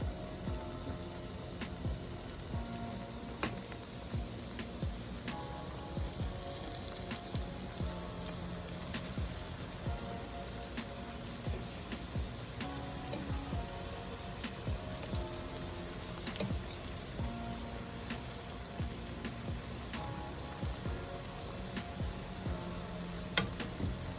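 Plantain slices fry in a hot pan for Jamaican ackee and saltfish, giving a steady close sizzle with small crackles and pops throughout, no voices.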